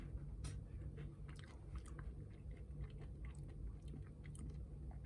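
Glico Pocky biscuit sticks being chewed close up, with soft, steady crunching and mouth sounds continuing throughout and no talking.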